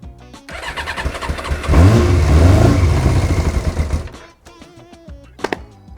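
A Yamaha XJ 600 motorcycle engine cranks over without catching, a loud churning burst lasting about two seconds that then cuts off, with quieter scattered sounds before and after.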